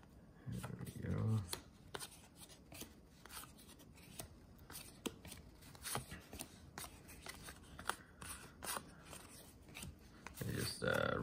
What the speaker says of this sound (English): Rip through a lot of these here.